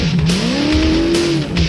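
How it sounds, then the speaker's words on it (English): A rally race car roars past at speed during the Toyota 1000 2015 event, its loud engine note rising and then falling in pitch as it passes close by, with tyre noise and no talk. "Werner Horn have just made their way past the special vehicle of Hutchison and Stassen"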